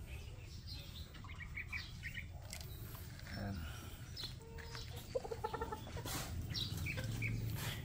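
Hens cluck and chicks chirp on a backyard poultry farm where a mother hen broods her chicks and eggs, with scattered calls over steady background noise and faint talk.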